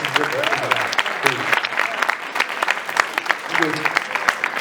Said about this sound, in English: Can we give him a round of applause, guys?